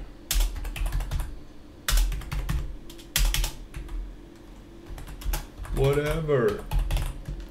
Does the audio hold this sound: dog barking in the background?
no